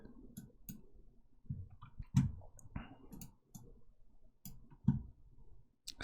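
Computer mouse clicks during a Unity game-development session, a series of crisp, close, separate clicks at irregular intervals in a quiet room.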